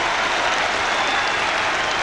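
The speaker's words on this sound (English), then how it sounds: "He appreciates the applause that are coming his way" Rugby crowd at a Leicester Tigers versus Bath match applauding a player leaving the field, a dense, steady wash of distant clapping throughout.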